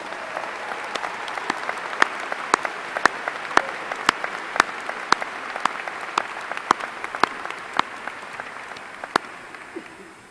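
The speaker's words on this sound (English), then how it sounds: "let's give these moms a wonderful round of applause" Sustained applause from a large commencement audience honoring mothers at an Illinois State University spring ceremony, with dense steady clapping and sharp individual claps standing out, filling the hall for about ten seconds before easing slightly at the end.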